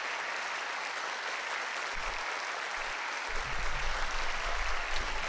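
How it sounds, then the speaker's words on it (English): Thunderous applause fills a hall at the end of a dance in a visual novel game, dense steady clapping that swells louder toward the end, heard alone. "Thunderous applause fills the hall"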